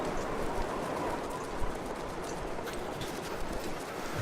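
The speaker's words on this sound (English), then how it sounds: "I keep hearing footsteps." Footsteps crunching through snow in The Long Dark, a steady patter of steps close by under a constant windy hiss in freezing conditions.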